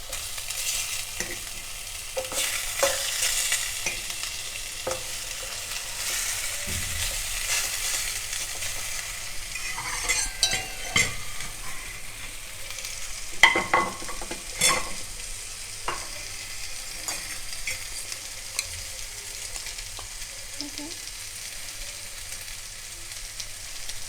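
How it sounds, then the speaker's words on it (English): Pork ribs fry in a pan with a steady, close sizzle and hiss, broken by occasional clacks and scrapes from stirring. No one speaks. "I'm going to fry this"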